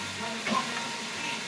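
Food sizzles in a pan, a steady soft frying hiss with a faint crackle, heard quietly and alone.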